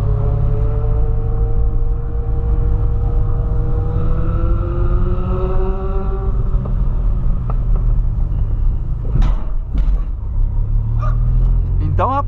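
Engine noise rumbles throughout, with revving tones sweeping up and down, then sharp exhaust pops and crackles as motorbikes, including a Honda Hornet, pass close by.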